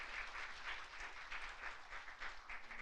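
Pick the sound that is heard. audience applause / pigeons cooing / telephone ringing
audience applause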